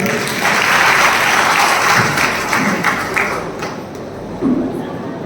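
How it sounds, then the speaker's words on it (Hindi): An audience applauds at a public meeting, with dense clapping that swells early and then thins out, and a few scattered louder claps and thumps near the end. "ताली बजा दें"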